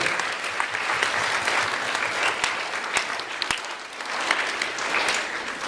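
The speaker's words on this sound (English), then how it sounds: "give yourself a round of applause for just even coming here today." An audience applauds at a talk, dense steady clapping that fills the whole stretch, moderately loud and unbroken, with no voices over it.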